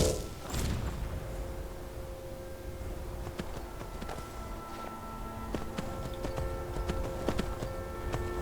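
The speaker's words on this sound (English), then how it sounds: "Trying to find the right button to summon my horse." A summoned horse in the video game Skyrim, modded Special Edition, trots in with faint rhythmic hoof clops over a steady ambient game background, with no talking.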